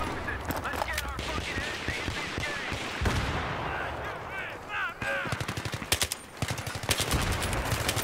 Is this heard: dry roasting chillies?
no